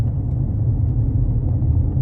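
Steady low engine hum and road rumble from inside a car being driven, constant and close throughout, with no talk.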